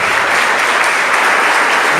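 A church congregation breaks into loud, dense applause, a steady roar of many hands clapping together without pause and close at hand.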